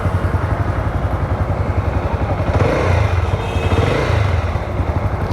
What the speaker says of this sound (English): I love the exhaust note on this motorcycle